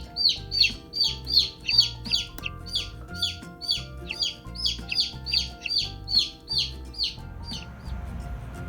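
Chickens cluck in a steady, repeated rhythm near hatching eggs, the calls loud and close, about a dozen evenly spaced clucks with a low background hum.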